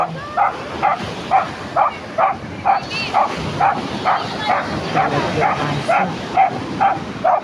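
A dog barks at the waves over and over in a steady rhythm on a beach in Zambales, sharp and fairly close, with a low rush of strong surf and wind behind it.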